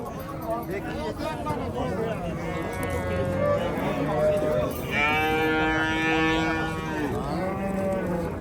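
Bull calves mooing at a cattle market, several long low calls overlapping amid a busy crowd of people talking nearby.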